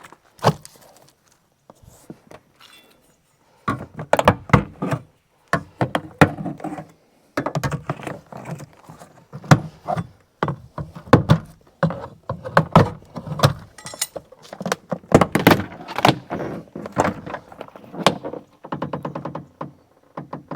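Hands take apart a Subaru Outback car door, giving irregular bursts of close clunks, rattles and plastic-and-metal knocks, starting after a quiet stretch and continuing in uneven clusters with brief pauses.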